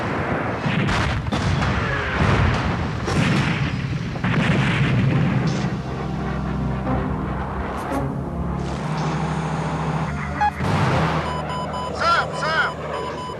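Weapons fire and explosions from a Rafale fighter jet in a military strike, heard as heavy booms and bursts over continuous jet and radio noise, with voices talking throughout.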